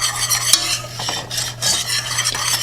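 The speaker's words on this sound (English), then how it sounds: "And then we can whisk that in." Xanthan gum being whisked into cooked blueberries for keto crumble bars, a quick close run of scraping, clicking whisk strokes against the pan with a light sizzle underneath.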